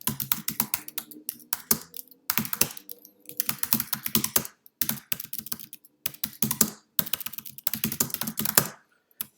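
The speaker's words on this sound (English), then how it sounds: "you see I'm typing quite quickly, hence a few typos here" Fast typing on a computer keyboard, dense bursts of clicking keystrokes in rapid runs broken by short pauses, close and fairly loud with no voices.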